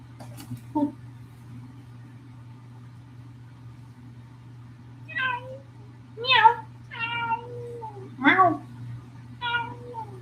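A cat meows several times indoors, with drawn-out calls in a loose series over a steady low hum, while a person talks faintly at moments.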